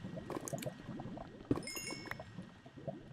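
Lava bubbles steadily in Minecraft with soft, quick gurgling pops and one louder pop partway through.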